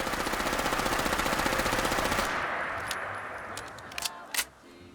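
Heckler & Koch MP7 submachine gun mod in Fallout 4 firing a rapid sustained automatic burst for about two seconds, then stopping, followed by quieter mechanical clicks and clacks of handling.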